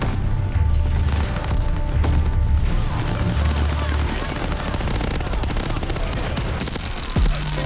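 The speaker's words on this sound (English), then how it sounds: "That was a very nasty B2 rocket." A B2 rocket killstreak strike in Call of Duty: Vanguard multiplayer rains down as a dense, loud barrage of rapid explosions and crackling gunfire, continuous for several seconds before easing near the end.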